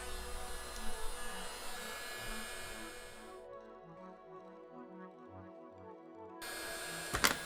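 A heat gun or hair dryer blasts steadily on the GPU thermal putty of a cheap, worn Xbox console, loud and continuous, cutting out for a few seconds before roaring back on.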